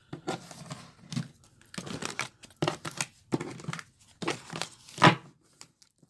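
A shuffled deck of tarot cards is cut into many piles, giving repeated crisp card slaps and shuffling rustles in separate bursts about once a second, close up and without talk.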